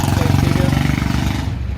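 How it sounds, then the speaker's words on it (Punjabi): A tractor engine chugging at idle with a steady, rapid low pulse, close by, throughout the short clip, at a tractor market in Malout. "ਪਹਿਲਾ ਟਰੈਕਟਰ ਆ ਗਿਆ ਜੀ"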